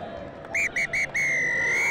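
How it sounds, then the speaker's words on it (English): A referee's full-time whistle at a school rugby match: several short sharp blasts followed by one long sustained blast, loud and close, with faint crowd noise underneath. "That full-time whistle was a moment of absolute elation"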